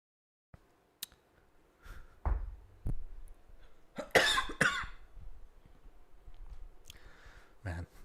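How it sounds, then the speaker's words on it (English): A few sharp, raspy coughs in quick succession, close by, with softer breathy sounds and small clicks in between. "this cough is killing me"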